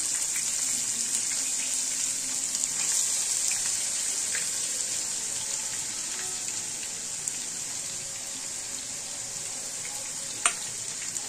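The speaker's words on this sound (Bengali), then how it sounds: "পেঁয়াজের কুচোটাকে আমি ভালো করে একটু ভেজে নিই।" Chopped onions frying in a pan for chicken do pyaza, a steady bright sizzle holding close and even throughout, with a faint clink near the end and no voices.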